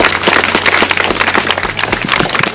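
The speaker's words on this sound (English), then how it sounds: "Can she have a round of applause for that?" A crowd at an outdoor rally to save the National Railway Museum bursts into steady applause, dense clapping filling the air loudly with no voices over it.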